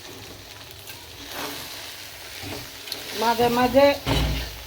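Rice is stirred and sautéed in a pot for pulao, faint sizzling with scraping stir strokes growing louder near the end, under a woman's speech.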